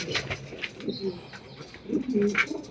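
Domestic pigeons kept in a loft with nesting pairs coo softly in a few low, rounded bursts, close by, with faint bird rustling and background murmur between calls.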